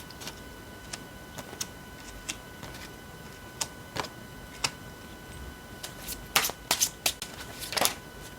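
Tarot cards being shuffled by hand close up, quiet scattered flicks and riffles that build to louder bursts of shuffling near the end, no talking.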